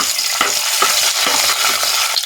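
Crushed garlic, a large dried red chilli and a green chilli fry in hot oil in a pan while being stirred. A loud, continuous sizzle is broken by repeated scraping strokes of the spoon, with no talking.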